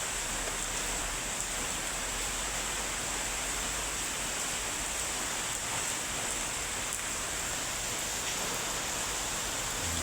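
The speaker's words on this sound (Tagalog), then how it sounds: "Lakas ng ulan." Heavy rain pours steadily and evenly for the whole stretch, a constant broadband hiss without breaks or voices.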